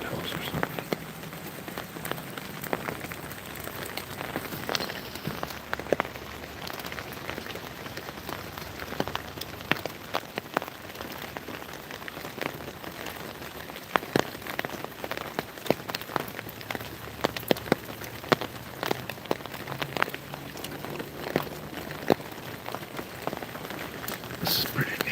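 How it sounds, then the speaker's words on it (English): Rain from a North Carolina rainstorm patters on a roof overhead, a steady dense hiss dotted with close, irregular drips and taps that runs throughout. "you can hear the rain pattering on the top of"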